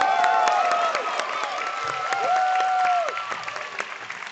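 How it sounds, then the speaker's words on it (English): Applause and cheering from the crowd at a speedcubing competition's finals, with steady clapping across the room mixed with whoops and tonal calls. "Listen to the crowd fanfare."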